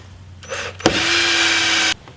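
A power drill bores a hole through the upper quarter panel of a Jeep Cherokee XJ, a short burst of whirring and grinding metal that starts after a click and stops abruptly after about a second.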